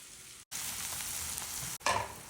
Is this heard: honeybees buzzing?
no